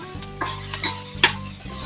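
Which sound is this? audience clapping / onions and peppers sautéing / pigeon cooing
onions and peppers sautéing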